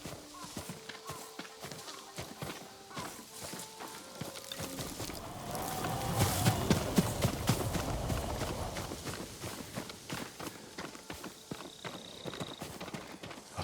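Horse hooves clip-clop at a walking pace in the video game Ghost of Tsushima, steady moderate steps under game ambience and music, with a louder swell in the middle.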